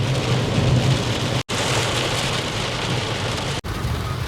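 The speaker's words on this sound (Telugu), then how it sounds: "వర్షం అయితే చాలా అంటే చాలా ఎక్కువ పడుతుంది" Heavy rain pours down in a loud, steady, close downpour, broken by two brief dropouts, with no voices.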